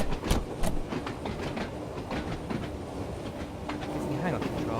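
A Class 483 train in Train Sim World 2, on the Isle of Wight, running with steady rumbling and rhythmic clicking wheel beats, close and moderately loud, with a voice talking over it.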